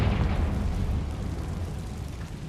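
A Confringo blasting spell in the Hogwarts Legacy video game lets off a deep, rumbling explosion that starts loud and slowly trails away, with heavy low-end boom and no speech.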